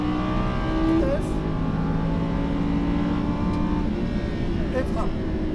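A Lamborghini Huracan accelerates on a track at Fay-de-Bretagne, its engine droning steadily and climbing in revs under a constant mechanical roar, while an instructor speaks in French over the noise.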